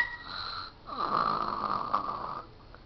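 Loud snoring from a dog lying on a bed, a long rasping, rattling breath with a fainter whistling inhale before it, close and alone without talk.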